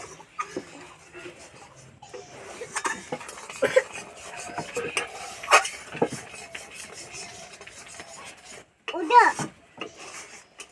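A spatula scrapes and drags around the sides of a wok as milk thickens for kheer, giving intermittent close scraping and clinking strokes. Voices chat and laugh underneath.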